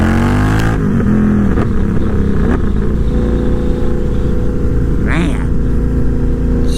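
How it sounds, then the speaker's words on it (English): Indian FTR 1200 V-twin motorcycle with a full Toce exhaust and tune, pulling hard in second gear out of a corner; a loud, close engine roar holds throughout, with rev changes and a brief rising surge near the end. "we'll be in second gear coming out of the corner"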